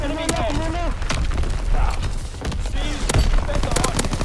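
Rapid explosive bursts and mechanical clatter of artillery fire in a video game, dense and loud, with excited voices talking over the fighting.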